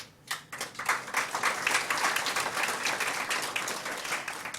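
Applause at the opening of a 2019 summer national convention as officers are called to stand: dense hand-clapping from a sizable audience that swells quickly after a brief lull and holds steady throughout.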